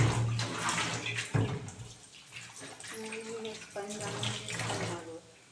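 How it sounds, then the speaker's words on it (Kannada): An aquarium tank motor rinsed under running clean water, splashing and gushing close by, with a voice talking over parts of the washing and the flow varying as the motor is turned. "ಶುದ್ಧ ನೀರಲ್ಲಿ ಮಾತ್ರ ವಾಶ್ ಮಾಡಬೇಕು"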